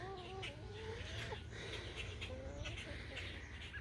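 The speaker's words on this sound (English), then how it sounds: "Would it be one of my YouTube videos without a look at my chickens?" Backyard hens cluck and call softly in a garden setting, several short bird calls over a steady low background hum, fairly faint and close.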